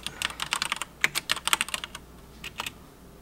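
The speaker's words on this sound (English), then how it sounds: "I'm testing the keyboard and it's working fine" Computer keyboard keys clacking in quick irregular bursts while the keyboard is tested, a dense flurry of close taps followed by a short pause and a few final keystrokes.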